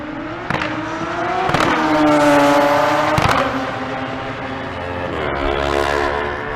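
A Kawasaki drag racing bike makes a pass down the strip at Bandimere, its loud engine revving up through rising gear changes before fading, with a few sharp crackles.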